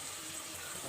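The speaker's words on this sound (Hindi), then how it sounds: "थोड़ा सा हम पानी डालेंगे बस" Water is poured into a pot of turnip and meat curry as it cooks, giving a brief, faint, steady rushing splash with a soft sizzle beneath and no voices.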